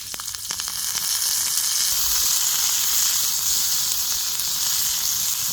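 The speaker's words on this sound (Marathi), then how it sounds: "मिरच्या भाजत आल्या थोडंसं तेल घालायचं" Green chillies roast in a little oil on an iron griddle, giving a steady, close hiss and sizzle that runs unbroken throughout with no voices.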